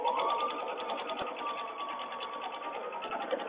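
A sewing machine stitches a fabric mask strap using an AccuCut or AccuQuilt die jig, a steady rapid mechanical whir and needle chatter running continuously up close with a brief pause near the middle.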